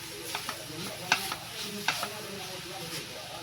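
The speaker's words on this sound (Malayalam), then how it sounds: "തേങ്ങ ഒതുക്കി ഒന്ന് ഇളക്കി മിക്സ് ചെയ്തെടുക്കുക" Grated coconut stirred into papaya thoran in a frying pan, with a spatula scraping in light, irregular strokes and a few sharper clicks over a soft, steady sizzle at a moderate distance.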